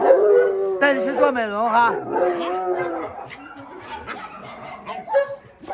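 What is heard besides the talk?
dogs howling and barking excitedly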